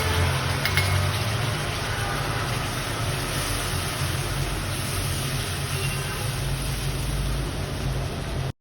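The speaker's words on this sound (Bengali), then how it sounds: "মশলাটা ভাজা ভাজা হয়ে যখন তেল ভেসে উঠবে" Spice paste for prawn malai curry, stone-ground with green chillies, fries steadily in oil in a pan, a continuous dense sizzle with a faint clink near the start, heard alone without talk.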